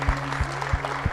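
Church congregation clapping along in steady rhythmic applause, four even beats over a low hum with faint background voices.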